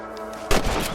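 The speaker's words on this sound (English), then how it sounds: "Get your rifle out. It's about time these little thieves met their maker." A single rifle shot fired at rabbits in the video game Red Dead Redemption 2, a sharp loud crack in the middle of a quiet outdoor game ambience, followed by a brief echoing tail.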